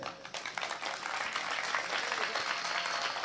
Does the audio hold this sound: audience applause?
yes